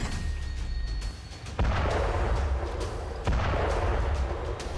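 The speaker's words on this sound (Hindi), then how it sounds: "दुश्मन पर गोलाबारी शुरू हो जाती है।" A new Russian artillery gun, built from a Soviet BMP-1 vehicle, fires two heavy booming rounds a couple of seconds apart, each followed by a long rolling rumble, with no voices.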